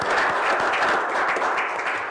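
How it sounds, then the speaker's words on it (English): An audience at a city council candidate forum applauds the candidates, a loud, dense and continuous burst of clapping from a crowd lasting a couple of seconds. "let's give the candidates a round of applause"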